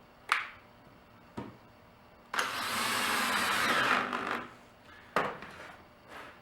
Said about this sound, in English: I'm going to get the rest of these screws driven in